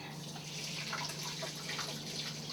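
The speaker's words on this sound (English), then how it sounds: "We put some filter water in it" Filtered water pouring into a pot of rice to cover it, a soft steady trickle and splash close by, fairly quiet and continuous, with a small knock at the very end.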